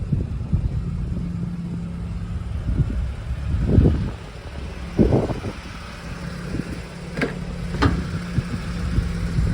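A 1988 Toyota Pickup with a 22RE engine runs at a steady idle, a low rumbling hum punctuated by a few louder knocks and clunks, with no talking over it.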